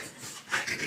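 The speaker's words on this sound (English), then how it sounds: "if you guys can hear any snarling in the background, it's my dogs" Dogs growl and pant in the background, a faint, rough snarl that swells briefly near the end.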